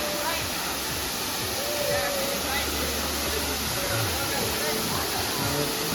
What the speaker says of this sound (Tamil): இது 4வது வாட்டர் ஃபால்ஸ்